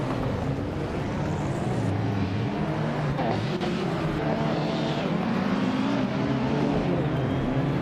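Race car engines from a video game race, a continuous loud droning roar with shifting pitch that fills the whole span, no talk.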